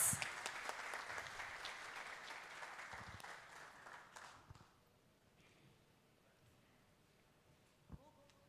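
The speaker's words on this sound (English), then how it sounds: "Can we have a loud, loud round of applause?" A corporate annual meeting audience applauds as guests are invited on stage, a loud crowd clapping that tapers off after about four seconds, leaving a quiet room with a few stray sounds.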